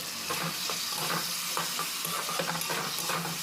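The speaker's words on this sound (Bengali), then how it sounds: "তো এইভাবে আপনারা সবজিটা কষতে থাকবেন" Drumstick and potato curry being sautéed in a pan on a medium gas flame, with a steady sizzle and repeated scraping stirs of a utensil against the pan, close and alone.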